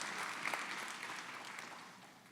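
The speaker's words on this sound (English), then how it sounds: "give yourselves a round of applause for being here" An indoor audience at a business program session claps in sustained, moderately distant applause that slowly fades over a couple of seconds.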